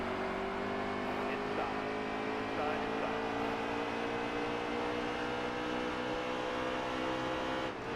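Xfinity Series race cars at Talladega surge forward on a restart, a dense, steady roar of many engines accelerating together at a distance.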